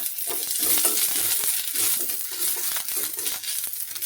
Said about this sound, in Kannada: ಒಂದು ಬಾಣಲಿ ತಗೊಂಡು ನುಗ್ಗೆ ಸೊಪ್ಪನ್ನು ಹುರ್ಕೊಳ್ತೀನಿ. ಎಣ್ಣೆ ಹಾಕಿ ಹುರ್ಕೊಳ್ತೀನಿ.